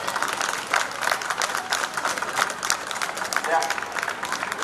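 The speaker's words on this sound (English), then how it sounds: "Come on guys, we can have a round of applause for this." A reunion crowd gives a round of applause, dense, steady clapping close by with crowd noise mixed in throughout.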